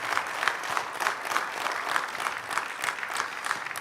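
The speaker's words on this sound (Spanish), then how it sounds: "Ríndele un fuerte aplauso al Espíritu Santo" A church congregation at a worship service gives a round of applause, even, rhythmic clapping from many people at a moderate level, continuous throughout with no talking.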